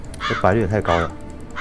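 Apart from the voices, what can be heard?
crows cawing in the video game Night Crows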